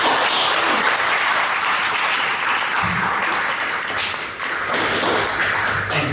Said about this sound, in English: In a big round of applause, Razvan Varga.